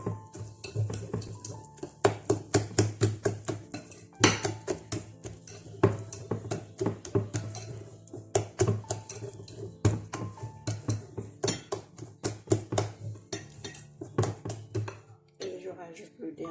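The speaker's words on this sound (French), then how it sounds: "je vais mélanger, je vais bien mélanger" A spoon stirring oat porridge in a pot, giving steady, rhythmic metallic clinks and scrapes against the pot, close and fairly loud throughout.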